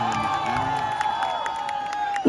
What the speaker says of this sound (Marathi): सगळे जोरदार टाळ्या.